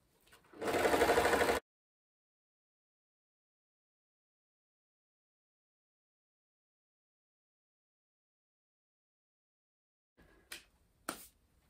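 A sewing machine stitches a layered net petticoat panel in one short, loud, steady burst, followed by long silence and a couple of faint clicks near the end.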